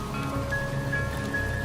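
Rain falls steadily in a Trainz 2019 railway simulation, a soft, even patter under faint tonal hum, alone without speech.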